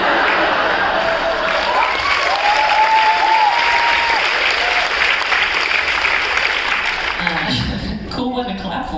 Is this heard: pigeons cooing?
no